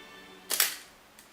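A Nikon camera fitted with a Nikkor 55mm f3.5 macro lens fires its shutter once, a single sharp, close mechanical snap in a quiet room.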